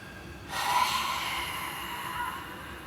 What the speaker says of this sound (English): Deep inhale.